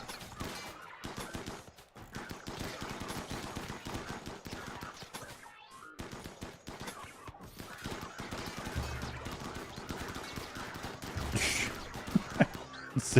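Colonists trade gunfire in the RimWorld video game, firing dense rapid shots and bursts throughout. The fire is mixed with game effects and comes in uneven clusters.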